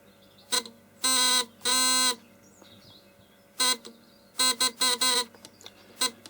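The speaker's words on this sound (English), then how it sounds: "that's your mechanical buzzer for your ohms range" The mechanical buzzer of a TMK 500TU-B analogue multimeter on its ohms range sounds in several harsh bursts, some long and some short, loud and close, with brief pauses between them.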